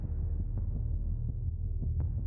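A slow, dull heartbeat thumps in a low throbbing rhythm over a dark hum, several beats in a row, faint and muffled, with no voices.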